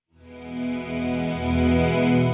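A sustained guitar chord swells in through an Eventide UltraTap delay with slurm maxed, its repeats smeared together into a thick, slightly wavering wash that grows louder.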